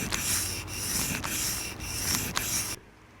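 Blade strokes on a coarse Japanese sharpening stone of about 600 grit, a close, steady rasping rub with quick repeated strokes that stops abruptly.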